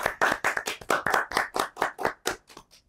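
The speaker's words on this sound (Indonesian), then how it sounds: "Kasih aplaus dong buat kakaknya." An audience claps for a theater performer at a school event: a short burst of about a dozen hand claps in a steady rhythm, close and clear, fading slightly toward the end, with no talking.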